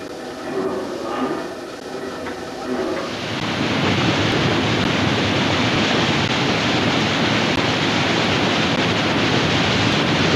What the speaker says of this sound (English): releasing water from the sluice gates here